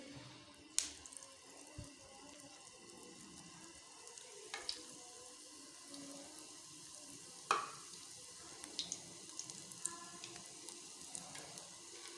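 Eggplant fingers coated in gram flour batter fry in hot oil in a pan, giving a steady soft sizzle with a few sharp crackles and pops, close and fairly quiet, with no talking.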